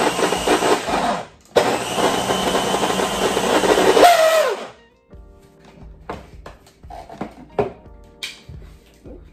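A food processor pureeing beans and vegetables with squash runs in two loud whirring bursts, briefly stopping in between, then winds down to scattered clinks and knocks of the bowl.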